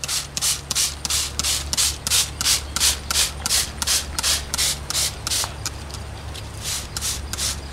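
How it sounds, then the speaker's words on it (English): Repeated short hissing bursts of a spray bottle drenching plant leaves to treat powdery mildew, about two per second, close by, with a steady low hum underneath. "I'm just going to spray and see what happens"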